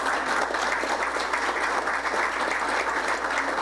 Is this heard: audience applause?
yes